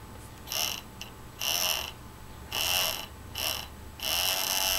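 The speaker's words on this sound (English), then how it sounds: "the actuator moves the other way" A gear motor actuator for a solar tracker whirs in five short bursts of a second or less, each a close, whiny mechanical run separated by brief quiet pauses.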